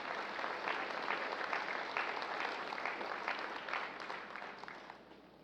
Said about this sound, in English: A well-deserved round of applause for the outgoing Chief of Staff, General Andres Castor Centino.